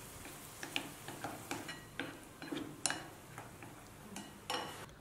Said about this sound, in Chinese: 倒入蛋液中，用筷子搅拌均匀